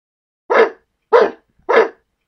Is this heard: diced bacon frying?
no